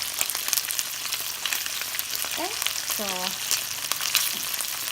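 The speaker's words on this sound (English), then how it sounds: "I leave the pork belly in there and let it fry." Pork belly for sisig frying in its own rendered fat gives a dense, constant, close sizzle with crackles and pops, under a brief spoken remark.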